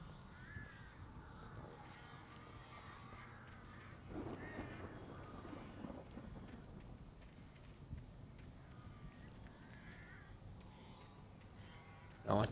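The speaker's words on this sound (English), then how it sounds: "I don't like the fact I'm hearing birds still," Crows caw in a dark, ambient scene from the Alan Wake Remastered video game, the calls moderately loud over a steady background bed, with no one talking.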